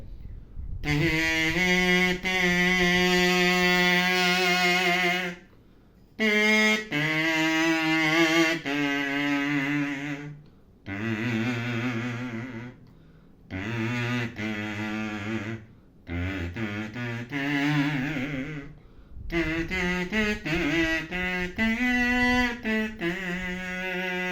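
A buzzy, nasal kazoo-like tone plays a series of sustained melodic notes in short phrases separated by brief pauses, loud and close.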